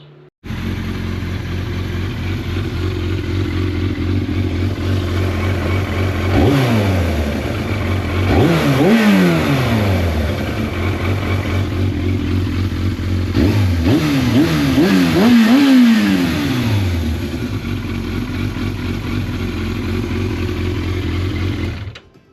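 Yamaha FZR600 Deltabox motorcycle engine idling steadily and loud up close, with two brief blips of revving that rise and then settle back down to a stable idle.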